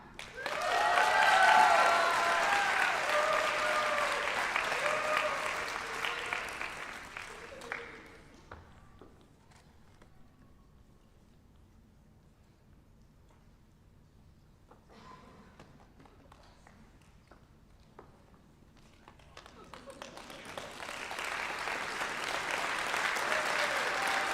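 A crowd at a nurses' pinning ceremony applauds the nursing graduates, with loud dense clapping for several seconds, fading to near quiet with scattered claps, then swelling into a second round of applause.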